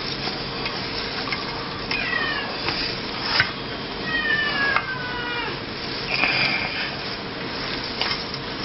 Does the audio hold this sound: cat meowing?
yes